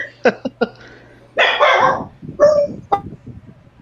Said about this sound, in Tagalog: The dog is saying something.